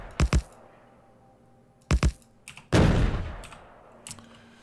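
Turrets in the video game Factorio firing on an enemy nest: a few sharp, loud separate bursts of gunfire at irregular spacing, one longer rumbling blast in the middle, and a fainter shot near the end, with no talking.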